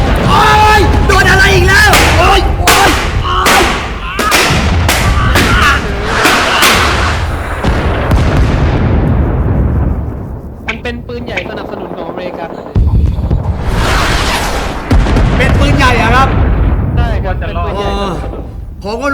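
Repeated booming blasts of artillery fire in the video game Rising Storm 2: Vietnam erupt in quick succession, loud and close, with a voice talking throughout and rumbling battle noise between the hits.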